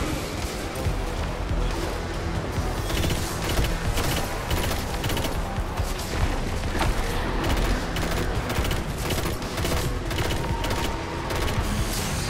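Dense, continuous gunfire from Destiny 2's Guardian Games 2023 event: rapid overlapping shots and mechanical clatter fill the mix loudly throughout, with no voices.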